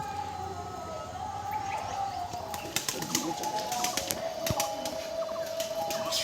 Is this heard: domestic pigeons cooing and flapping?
yes